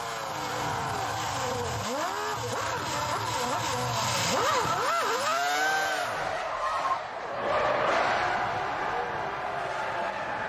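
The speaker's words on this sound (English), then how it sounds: "Michael Schumacher had a dubious spin." Michael Schumacher's Formula 1 car spins during qualifying, its engine note swooping up and down in rapid arcs as the revs flare, with tyre scrubbing and a wash of crowd and track noise, commentary faintly underneath.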